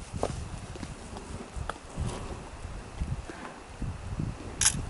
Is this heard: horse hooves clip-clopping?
yes